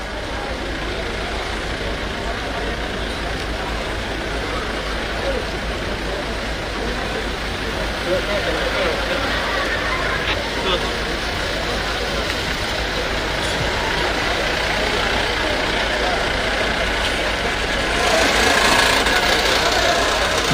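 A heavy vehicle reversing at an election campaign gathering so an ambulance can get out, its engine rumbling low and steady close by under crowd noise, and growing louder near the end.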